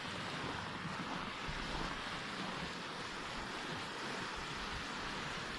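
Rushing water of the Puuskankoski rapids in Mäntyharju, Finland, in winter, a steady broadband roar that carries on without a break at moderate loudness, with no voices.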